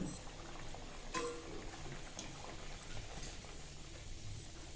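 Luchi, including palm-flavoured ones, deep-fry in hot oil on a gas stove with a faint, steady sizzle and occasional small pops, heard quietly from a short distance.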